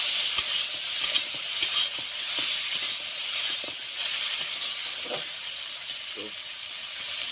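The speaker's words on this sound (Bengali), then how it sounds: "আবার একটু নেড়ে দিলাম।" Potatoes frying in a little oil in a pan, stirred now and then: a steady close sizzle and hiss with soft scraping strokes of a spoon scattered through.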